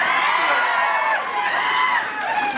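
Students at a college freshers party cheer and whoop from the audience, a steady mass of overlapping shouting voices heard at close range.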